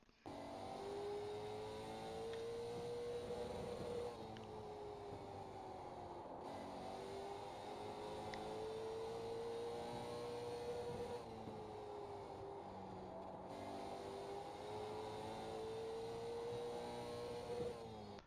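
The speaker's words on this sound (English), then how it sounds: "So here we go inside the car for a lap." LMSC race car engine in iRacing at the Irwindale inner track, revving steadily and rising and falling through each shift across a quick lap, loud and continuous with no talking.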